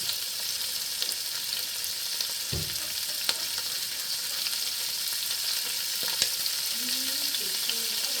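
Onions fry in a pot for beef stew, a continuous even sizzle at close range with a few light clinks from the utensil and no talk.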